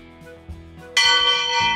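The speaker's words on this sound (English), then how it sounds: "That's a really loud bell!" An old-fashioned fire alarm bell rings out loud and suddenly at a pool facility, a bright metallic clang that swells to full volume partway through and keeps going steadily, with low rumbles underneath.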